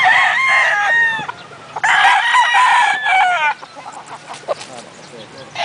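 A fighting rooster (gamecock) crows loudly twice in a row, close by, each crow a long drawn-out call, followed by quieter clucking and scattered farmyard noise.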